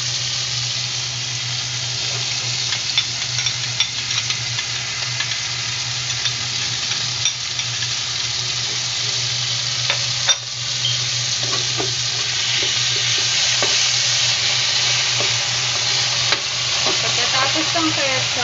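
Pork spareribs sizzling steadily in a hot pan while being stirred, with scraping and clinking of the utensil over a constant close frying hiss and no talk.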